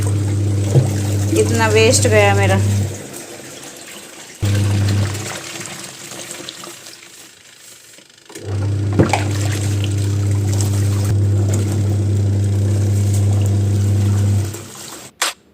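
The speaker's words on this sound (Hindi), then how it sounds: "और यहाँ पानी निकाल रही हूँ ज़्यादा" Excess water draining from a washing machine, a steady loud gushing pour that stops and restarts, with someone speaking briefly over the start.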